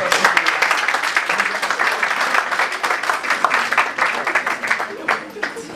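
Sustained audience applause at a Congolese music dedication event, steady dense clapping filling the room from start to finish with a slightly fading end, no voices standing out above it.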